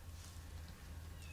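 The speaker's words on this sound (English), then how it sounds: "that is my kitten crying because I'm not giving her love" A kitten gives a faint, brief meow, quiet against a low background hum.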